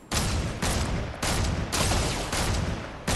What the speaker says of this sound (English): Oh, somebody's up there shooting at him.